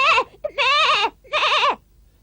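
The cartoon goat Djali bleats three times in a row, loud and close, the second and third calls long and wavering, with no talk.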